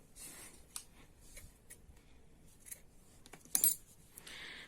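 Scissors cut yarn during crochet work on a swirled hat, giving several small snips and clicks close by in a quiet room. One sharper metallic click comes near the end.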